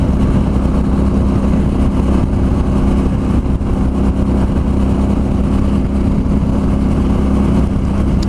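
A motorcycle cruising on a California freeway near Milpitas gives a constant loud engine drone mixed with wind rush, steady throughout with no speech.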